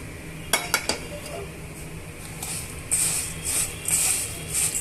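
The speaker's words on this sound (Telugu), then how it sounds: "ఇప్పుడు ఇవన్నీ కూడా బాగా మిక్స్ చేసుకుందామండి" A puffed rice mixture is tossed in a bowl, with a quick burst of sharp metal clinks followed by rustling scrapes and stirring, close and fairly loud, without talking.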